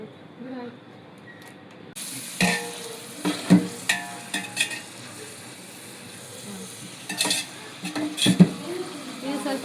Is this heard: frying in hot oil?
yes